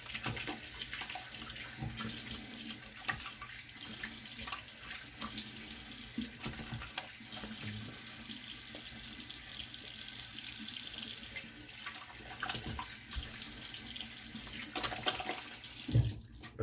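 Water from a tap runs steadily into a sink while a synthetic sharpening stone is rinsed, a continuous close splashing stream with small shifts as the stone moves under it, no talk.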